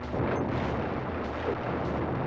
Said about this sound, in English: Now we're near the end of the first stage. Which means we gotta fight some cannons.